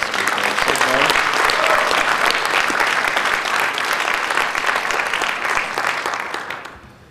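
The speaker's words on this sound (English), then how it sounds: "I think that we owe them a round of applause for the success we've had so far" A large audience at a URISA GIS awards breakfast bursts into sustained applause for the conference committee, a dense, steady wash of clapping that holds for several seconds before tapering off at the end.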